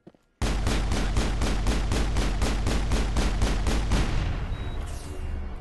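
Rapid gunfire in the Mass Effect video game: a loud, evenly spaced burst of about a dozen sharp shots fired in quick rhythm, then trailing off into a fading echo.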